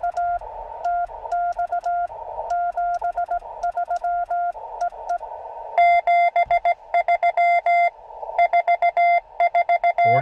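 Morse code CW tones picked up on a 17-meter ham radio band beep in short and long keyed bursts, loud and clear, with a second higher-pitched signal coming in partway through.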